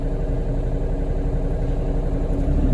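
A Kubota KX033-4 mini excavator running its hydraulic pump at slow speed for a flail mower, a steady, close low engine drone holding even throughout with no talking.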